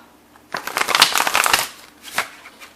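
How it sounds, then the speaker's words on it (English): Tarot cards are shuffled, with a dense riffling burst lasting about a second, then a brief second shuffle. It is close and clear, with no voice. "let's start shuffling here"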